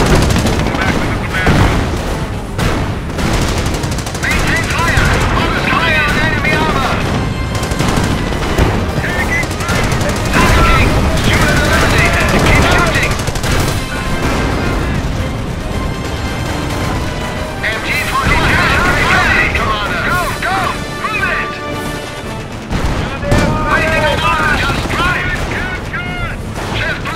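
Dense gunfire, machine-gun bursts and booming explosions from a Company of Heroes battle with the Panzer Elite faction rattle on continuously and loudly, with in-game voices calling out over the combat.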